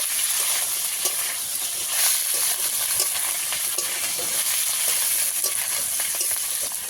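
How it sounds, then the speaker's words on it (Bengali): Ginger paste frying with browned fried potatoes in a pan, a loud dense sizzle and hiss that runs without a break, dotted with small crackles and spatters. "আদা বাটা দিয়ে একটু ভেজে নেব।"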